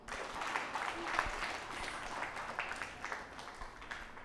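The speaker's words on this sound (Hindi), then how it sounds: "आप सभी अपने लिए तालियां बजाइए" An audience applauds itself, a faint, thin wash of clapping that stays fairly even throughout, with a few brief tones surfacing and no clear voices over it.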